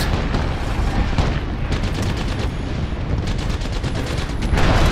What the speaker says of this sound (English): There's so many grenades and I don't know where anyone is